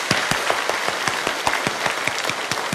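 A church congregation applauds during a service, a dense, steady wash of many hands clapping together from close by in a reverberant hall.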